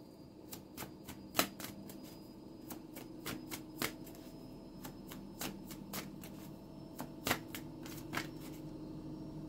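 Tarot cards are shuffled by hand before a reading, close and quiet, giving crisp rapid riffles and soft slaps in irregular bursts against a faint steady background, with no one speaking.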